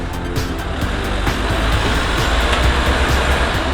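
An off-road vehicle on a hardcore trail reverses and then accelerates hard, its engine giving a loud, continuous rumble close by, with no speech.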